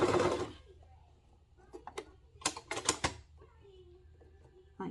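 Sewing machine stitching a seam on a toddler's reversible swimsuit, short bursts of rapid mechanical chatter separated by pauses, close and moderately quiet, with a brief voice at the start and a small child heard faintly.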